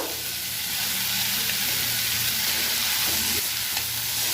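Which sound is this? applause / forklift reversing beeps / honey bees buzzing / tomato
tomato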